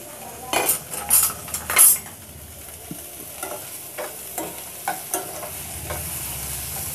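Garlic, green chilli, onion and tomato sautéing in a pan, with close sizzling under several loud metal spoon scrapes and clinks against the pan, then a softer steady sizzle with occasional stirring taps.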